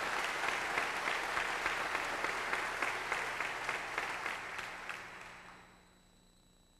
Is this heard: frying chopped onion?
no